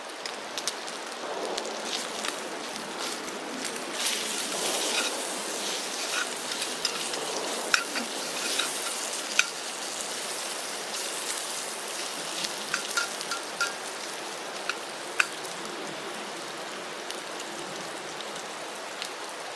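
Rain pattering steadily on a military pup tent, a dense close hiss of drops with scattered louder taps striking the canvas, no voices.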